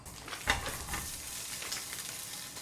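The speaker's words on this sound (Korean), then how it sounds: "미리 준비한 이 소세지들과 예, 뭐 요런 것들 좀 구워보도록 할 텐데" Sausages and ham frying in a pan without added oil, a steady broadband sizzle with one brief louder crackle near the start, otherwise even and continuous.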